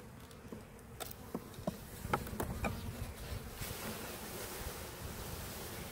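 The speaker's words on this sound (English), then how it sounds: "He's just shaking bees out of there like he's a madman." A dense buzzing of many honeybees being shaken from a package into a hive, with scattered bumps and knocks, rising into a steady rushing hum as the swarm grows louder.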